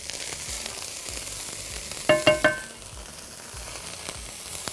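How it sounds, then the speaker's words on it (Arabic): A spoonful of minced garlic fries gently in oil in a pan for garlic pasta, a soft, quiet sizzle broken midway by three quick metallic clinks of a utensil. "وحمره في الطاسة تحميرة بسيطة معلقة ثوم كده مفروم"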